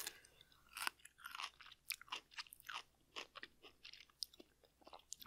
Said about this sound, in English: The pickles I'm eating today are baby dills